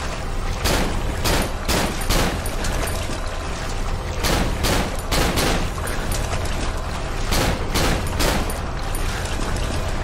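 Pistol fire in the horror game Cry of Fear comes as dense, loud, rapid shots, one after another, with short bursts and brief gaps. Nothing else is heard beneath the gunfire.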